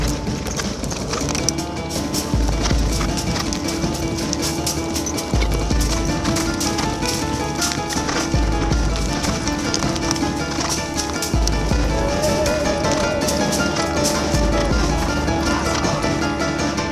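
Racehorses trot with a quick, regular clip-clop of hooves, steady and fairly loud throughout and layered over background music.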